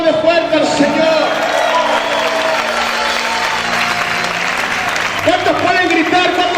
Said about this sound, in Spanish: Grita y aplaude fuerte al Señor.